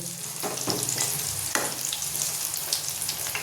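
Okra bonda fritters crackle and sizzle steadily in hot oil, with a few brief stirring clatters and no voices.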